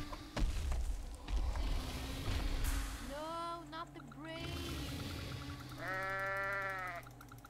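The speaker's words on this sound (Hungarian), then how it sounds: "Mi mekeg, ha T-Rex-e vagyok?" Goat bleats from the Goat Z video game, several wavering cries rising over clattery game noise and a low rumble, with a long bleat near the end; a voice briefly speaks early on.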